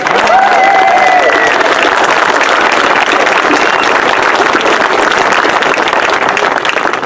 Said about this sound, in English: Please join me in applause to thank John Laird, who is also with us today.